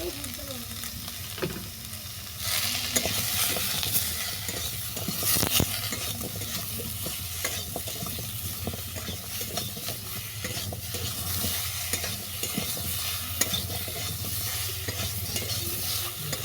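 Mixed vegetables sizzle in a pan while being stirred after salt and turmeric go in, a steady close frying crackle with scraping stir strokes and occasional clinks.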